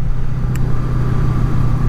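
Honda VFR800 motorcycle out on a ride, a close, loud, steady engine rumble with a constant low drone and no voices.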